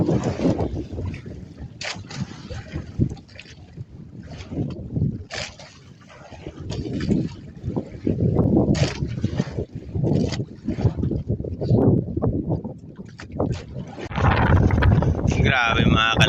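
Strong northeast monsoon wind roars and buffets the microphone aboard a small boat at sea, with rushing water and the boat's noise rising and falling throughout.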